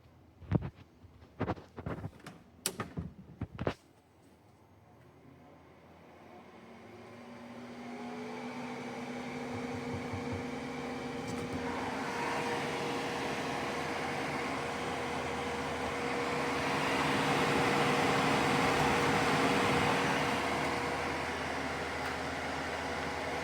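Fans of a 3D printer running at full speed, a steady whirring drone that builds up after several sharp clicks and knocks at the start and then holds loud and continuous.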